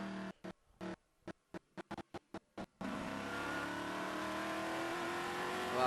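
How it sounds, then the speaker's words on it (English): Trans Am muscle race cars at Watkins Glen: a loud engine note that is chopped into short bursts at first, then settles into a steady, sustained roar as a car runs hard, close and with no talk. "The sound is just fantastic from these glorious muscle cars at Watkins Glen"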